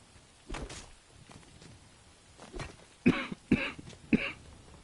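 Several harsh coughs from a single person, loud and close: a couple of scattered throat-clearing hacks early on, then three sharp, forceful coughs in quick succession near the end.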